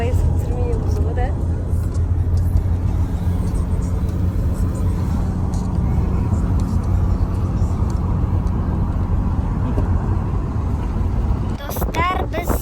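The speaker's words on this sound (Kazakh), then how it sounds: "Достар, біз мұнда машинада отырмыз." Steady low engine and road rumble fills a car cabin on a drive toward Burabay near Shchuchinsk, constant and close throughout, with faint voices at times and a brief clatter near the end.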